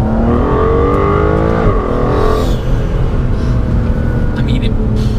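An Aston Martin DBS Superleggera engine roars steadily and loud in second gear, revving up with a shifting pitch, then settling into a rough, continuous drone close by.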